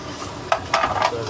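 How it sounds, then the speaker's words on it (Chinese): Chicken pieces frying in a pan for sesame oil chicken, close and fairly loud, with a soft sizzle and a few bursts of scraping and stirring from a utensil. "把鸡 肉 煎香"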